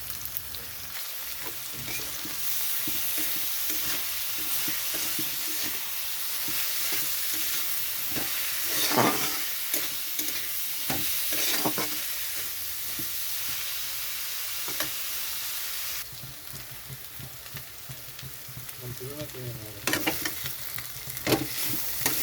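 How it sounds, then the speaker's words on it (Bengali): Onion and green chilli frying in a pan with potato, ginger and garlic, a steady loud sizzle broken by repeated scraping stir strokes and clanks, close and continuous with no talking. "এখন আমি এখানে দিয়ে দিচ্ছি পেঁয়াজ"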